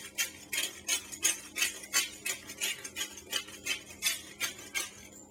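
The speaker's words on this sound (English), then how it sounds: "what I'm going to do now is crush some fresh ground pepper on top" Fresh black pepper cracked from a grinder over a salted steak for sous vide: a steady run of gritty, rhythmic grinding twists, about a dozen quick pulses, close and fairly quiet with no talk.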